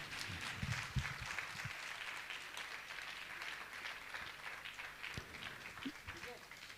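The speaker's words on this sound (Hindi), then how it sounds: "जोरदार तालियां बजाएं, आपकी तालियां बहुत कम बजती हैं।" Audience applause at a Jain religious gathering where guests are being honoured, a sustained, fairly steady burst of clapping from a crowd with a few scattered voices and knocks mixed in.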